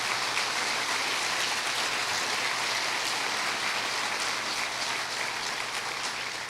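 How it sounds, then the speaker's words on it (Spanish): A church congregation applauds in a steady, dense wash of clapping that holds evenly throughout, sounding like a hiss of rain with no distinct individual claps or voices. "Dale otro aplauso al Señor."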